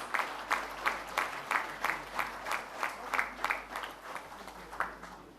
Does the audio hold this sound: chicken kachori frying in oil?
no